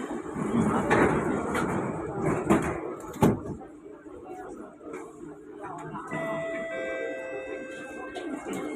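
Sliding doors of an SMRT Kawasaki C151A train on Singapore's North-South Line thudding and rolling shut, with a sharp clunk midway, followed by steady in-car hum and a chime-like electronic tone, under a recorded announcement voice.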